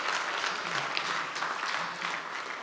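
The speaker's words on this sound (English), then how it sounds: "Can we have a cheer from the room here in Nairobi in Kenya, everybody?" A crowd in a conference room in Nairobi, Kenya, cheers and claps loudly in a dense, continuous wash that swells slightly and holds steady throughout.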